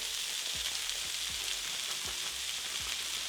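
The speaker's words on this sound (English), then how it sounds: "since we're using frozen corn, we're gonna let it cook for about a minute" Frozen corn frying in a pan for a one-pan chicken and creamed corn dish with coconut milk, a steady close hiss of sizzling with soft low thumps every half second or so, no talking.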